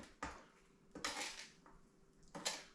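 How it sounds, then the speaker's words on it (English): Homemade coleslaw stirred in a bowl, made with vegetables cut in a Smile Mom vegetable chopper: three separate scraping, clinking bursts of utensil against bowl, close and fairly quiet, with no talking. "I'm just stirring, just trying to turn it a little bit so I can get some more coverage"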